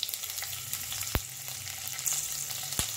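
Chopped green chillies and cumin seeds dropped into hot oil, a steady bright sizzle and crackle with a couple of sharp pops, close and loud, no talking.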